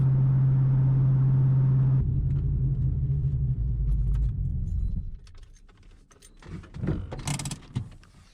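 A modified 2000 Mustang GT V8 of about 300 wheel horsepower rumbles loud and close, a steady deep drone that cuts off after about five seconds, leaving quieter rattles and thumps.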